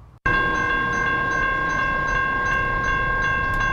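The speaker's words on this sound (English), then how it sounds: "Trains rumble through town all day and all night" A freight train rumbles steadily through a town, its loud horn sounding in sustained multi-tone blasts almost throughout, over heavy low rolling rail noise, close and continuous.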